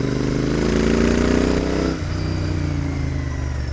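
Royal Enfield Interceptor 650 parallel-twin engine on a test ride, a steady mid-pitched drone held at moderate revs, dipping briefly near the middle before settling back into an even, continuous hum with no voices.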